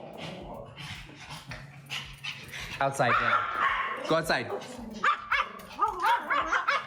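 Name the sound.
dogs barking and whimpering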